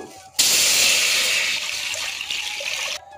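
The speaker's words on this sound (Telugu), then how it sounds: "గిన్నెలో నేను సుమారు 3 లీటర్ల వాటర్ అయితే పోస్తున్నాను." About three litres of water pours steadily into a pot for a few seconds, a loud, bright rushing splash that eases slightly before stopping abruptly.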